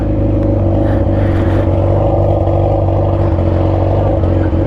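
Yamaha R6 sport motorcycle engine on a night ride, a loud, continuous, close droning hum at steady revs with wind noise, with no clear talk.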